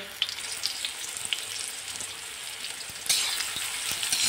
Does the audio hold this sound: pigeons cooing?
no